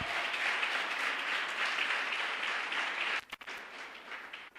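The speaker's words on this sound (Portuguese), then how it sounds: "Você pode aplaudir ao Senhor!" Church congregation applauding during a sermon, a steady wash of many hands clapping that thins out near the end.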